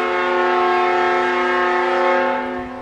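A train horn blares loud and close in a single sustained chord of steady harmonic tones, holding for nearly three seconds before starting to fade.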